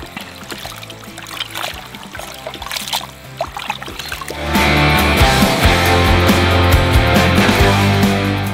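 Natukodi country chicken pieces are rinsed in water for biryani, with trickling and splashing at first, then a louder steady rush of running water over the pieces, close by.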